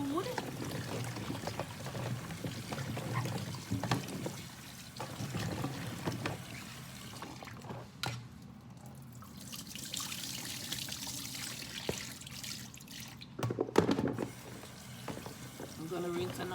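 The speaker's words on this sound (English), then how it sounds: "I am going to rinse the food." Chicken feet are rinsed under running tap water for soup, a steady close pouring and trickling splash with small shifts in flow and a few sharper splashes near the end.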